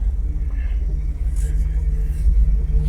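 An old car's engine, running again after sitting for 20 years, idles with a deep, steady rumble and slight unevenness, loud and close, with a faint voice in the background.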